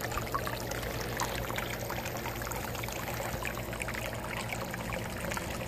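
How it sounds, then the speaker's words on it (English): Water pours and trickles steadily in a backyard aquaponics garden built from a recycled jacuzzi, with koi, at a tiny house in Floresville, Texas; a continuous, close splashing flow with no voices. "I love hearing that water run."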